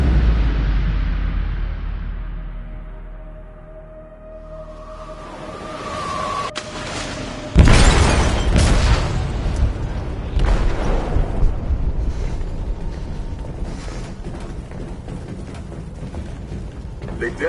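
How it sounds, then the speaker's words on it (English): Explosive detonated in a ship's hold in Detroit: Become Human: a deep rumbling low end swells, then a sudden loud blast hits, followed by a long rolling roar of debris and rumble that slowly settles. "They detonated an explosive in the hold."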